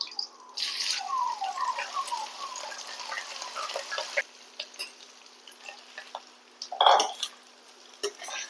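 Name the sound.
pouring rice into pot of spices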